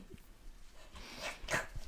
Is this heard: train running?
no